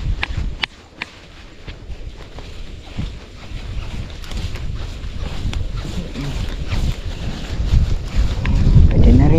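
Wind buffets the microphone in a steady low rumble, with gusts swelling louder toward the end and faint clicks scattered throughout.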